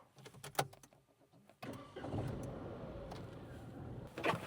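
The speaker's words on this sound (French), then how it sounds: "Je démarre la voiture." A car engine cranks and catches after a door and other handling noises, then settles into a steady idle that stays close and fairly loud.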